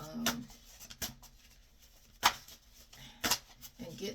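A deck of tarot-style reading cards is shuffled by hand in quiet, separate bursts of riffling and slapping, each brief and close, with soft rustling between them.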